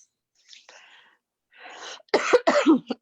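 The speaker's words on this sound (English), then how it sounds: "Was that a cough? Uh-oh. That's a cough." A few soft breathy sounds, then a burst of loud, harsh coughs close by, three or four in quick succession.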